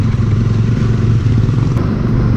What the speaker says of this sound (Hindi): हम चला रहे हैं अपनी डोमिनार मुलियान गिरी की तरफ